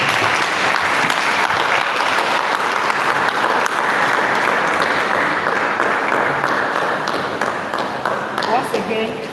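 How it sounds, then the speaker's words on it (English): Audience at a college agricultural service training event applauding after a speech: sustained, dense clapping from a full room, loud and steady before thinning slightly toward the end. "Once again, a round of applause for the public relations unit of the college."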